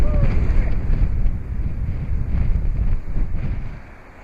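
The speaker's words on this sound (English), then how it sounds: "It's windy." Strong wind on a sailboat on San Francisco Bay buffets the microphone in a steady low rumble, gusting loudly before easing off toward the end.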